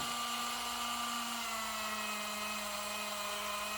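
A spongy abrasive buffer wheel spins against metal while fixing a VKS charging handle, giving a steady, loud, even whine with a sustained tone that shifts slightly partway through, alone without talk.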